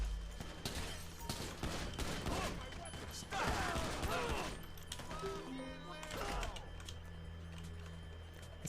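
Gunshots in Grand Theft Auto V during a speedrun: a rapid string of sharp shots and clattering impacts, dense at first and then thinning out, mixed with game effects and someone talking throughout.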